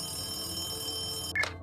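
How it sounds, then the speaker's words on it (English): Motel room telephone, a brief bright ring bursting in near the end after a steady hum of room tone, close and sharp with no voices. "the telephone in my motel room began to ring"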